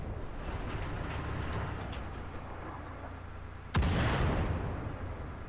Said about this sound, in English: There are artillery shells landing around us somewhere.